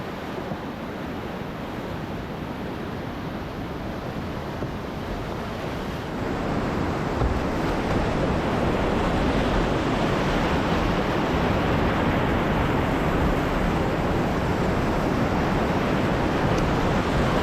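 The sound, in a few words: whitewater river rapid rushing, South Fork Salmon River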